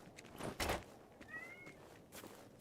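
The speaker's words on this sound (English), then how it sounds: "Cat is acting a fool over there." A cat meows a few times in a room, short faint cries heard amid soft thuds and shuffling, fairly distant and quiet.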